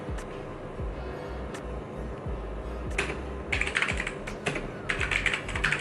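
Steady clicking of gaming mechanical keyboard keys at a fast, continuous pace, growing louder and busier toward the end, with no voices.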